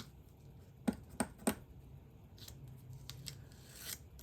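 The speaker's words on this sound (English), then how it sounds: "we're going to remove the tape and the die" Tape and a cutting die being pulled off cardstock during a partial die-cutting paper craft, giving three sharp peeling crackles close up, then softer rustling and a brief tearing swish.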